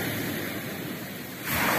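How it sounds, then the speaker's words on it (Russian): Small sea waves wash steadily onto a beach at Lazarevskoye in October, a continuous rushing hiss that swells louder near the end. "На море такая небольшая волна сегодня"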